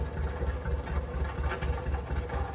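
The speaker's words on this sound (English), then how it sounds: "it was time to fire up the steam engine and get it ready to thrash" A steam engine fired up for wheat threshing runs steadily close by, giving a low rhythmic chugging throb with a constant mechanical hum and no voices.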